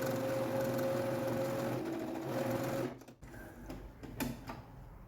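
A domestic sewing machine runs steadily for about three seconds stitching fabric for a small Easter bunny bag project, then stops, followed by a few light clicks and handling sounds.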